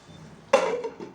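A utensil stirs chopped tomato and vegetables in a pan, giving a sharp scrape followed by a few lighter clinks and shuffles against the metal.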